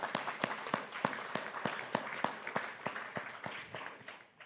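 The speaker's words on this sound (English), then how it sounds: "I think the applause are in the place" Conference audience applause, a moderate crowd clapping in fairly regular, distinct claps that taper off before a sudden sharp sound at the very end.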